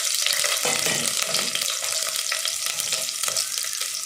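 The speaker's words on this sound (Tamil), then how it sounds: "வெங்காயம் நல்லா வதங்கட்டும்." Onions frying in hot oil with mustard seeds for sambar, a loud continuous sizzle and crackle with occasional stirring scrapes, close up and steady throughout.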